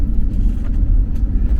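A car sliding on an icy Minnesota road, a loud, close low rumble of engine and tyres with scraping texture, continuous throughout.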